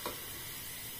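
A crepe browns in a hot pan, giving a soft continuous sizzle with a faint tap at the start, close and steady with no voices.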